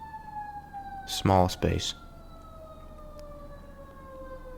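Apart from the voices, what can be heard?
siren of a passing emergency vehicle on a busy street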